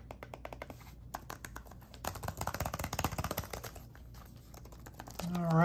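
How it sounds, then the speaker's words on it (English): Typing on a Lenovo Chromebook Duet 3 detachable keyboard: quick bursts of light, close plastic key clicks, sparse at first then a denser run of rapid taps, ending with a brief voice. "Here we go with the keyboard."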